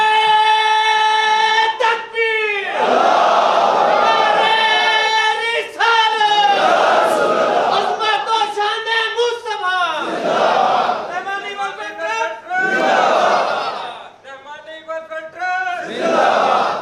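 A crowd at a welfare trust gathering in Rawalpindi chants slogans in loud, repeated vocal bursts that rise and break off in short pauses, many voices shouting together throughout.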